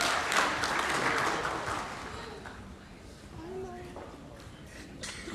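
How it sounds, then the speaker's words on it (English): A crowd at a Pasifika festival main stage claps, loud at first and then fading away, followed by a host starting to speak into the microphone. "Okay, ladies and gentlemen, let's give it up for Sina Foon."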